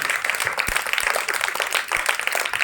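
Children at a VBS celebration clap together, a moderately loud, busy patter of many small hands with a few sharper individual claps standing out, continuing steadily without speech.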